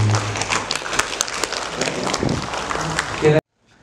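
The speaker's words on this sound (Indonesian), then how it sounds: "Boleh tepuk tangan ibu-ibu." Mothers in a parenting lecture audience clap together, a busy mid-level patter with some voices mixed in, then the sound cuts off abruptly to silence near the end.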